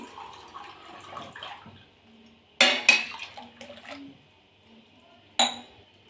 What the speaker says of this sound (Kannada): ನಾನು ಇನ್ನೂ ಸ್ವಲ್ಪ ನೀರು ಹಾಕ್ತೀನಿ